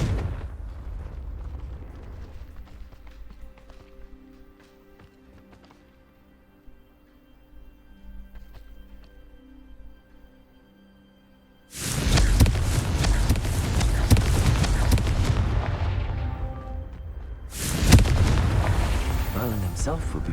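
Fire-spell explosions from Confringo casts in the video game Hogwarts Legacy. Quiet game ambience gives way to a sudden loud, roaring blast that sustains. A brief dip follows, then a second thunderous burst.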